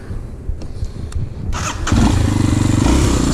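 A Kawasaki KLX 230 dirt bike on a rough trail rumbles as its engine picks up, going from a quieter idle to a loud, close, steady throbbing run.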